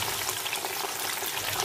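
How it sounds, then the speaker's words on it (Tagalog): Steady, bright crackling sizzle as water is whisked into hot frying oil while making homemade potato chips, a dense hiss with no pauses or voices. "mag-whisk tayo ng konting tubig sa mantika"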